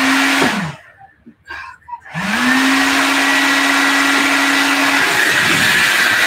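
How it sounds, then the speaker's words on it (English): A hair dryer runs loud and steady with a constant motor whine, cuts out briefly, then starts again and keeps blowing at full strength. "Or the hair dryer."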